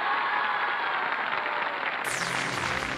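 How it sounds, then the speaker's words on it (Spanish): Loud, steady audience applause at a large tribute show, a dense continuous clapping roar that shifts partway through as a music or effects sweep enters underneath. "siente este aplauso fuerte"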